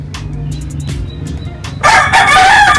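A rooster crows loudly and close after a quieter stretch of faint background clucking and rustling.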